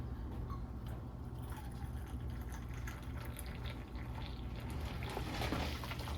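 Hot water pours steadily into a cup for a food-prep dish, a continuous close gushing and filling sound that holds at a fairly even level throughout, with no talking.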